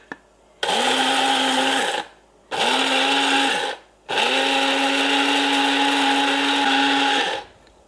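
Blender grinds dry spices into powder for homemade herbal hair oil, running in three loud bursts of a high, whining motor roar, two short and one longer, separated by brief pauses.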